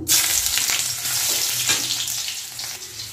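Chopped onion hits hot oil with bay leaves and five-spice seeds for a green banana curry, bursting into a loud sizzle at once and frying steadily, with faint stirring, and no voices.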